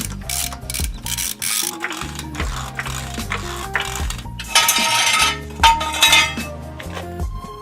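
Metallic clinks and ratcheting clicks from tightening the wheel lug nuts back onto a car after a coilover adjustment, arriving in irregular bursts of close, busy mechanical clatter with no talking.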